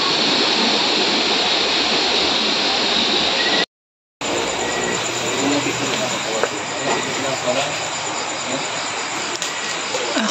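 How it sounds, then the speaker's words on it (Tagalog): A river rushes loud and steady beside a campsite in Daraitan, Tanay, Rizal, a dense broadband roar that drops out briefly then resumes, with faint voices beneath it. "Tunog ng ilog."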